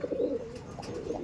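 Pigeons at a loft give a brief, soft cooing call close by, a low throaty coo lasting about a second.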